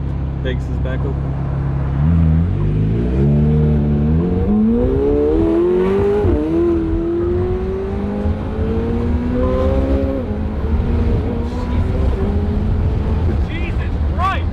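McLaren 720S accelerating hard with exhaust pops, engine note sweeping up through several gears in repeated loud rising pulls, with excited shouting from inside the car over the engine.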